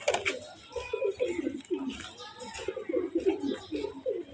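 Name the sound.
Budapest racing pigeons cooing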